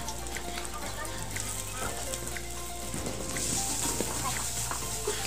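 Sliced onion hits hot oil with frying ginger and garlic, giving a steady close sizzle and crackle with scattered pops throughout.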